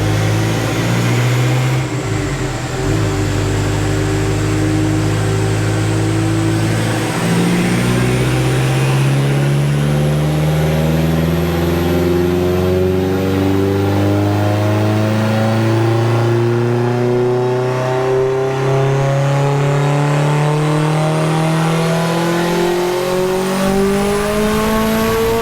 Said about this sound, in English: Want to hear what the car sounds like with no exhaust on the dyno